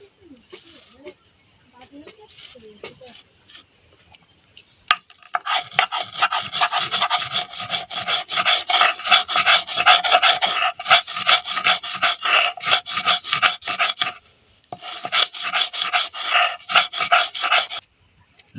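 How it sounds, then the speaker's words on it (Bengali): Raw jujube (bori) ground with salt for a pickle produces rhythmic, gritty rubbing strokes in long repeated bursts after a quieter start, loud and close with brief pauses between runs. "বাটা শুরু করব"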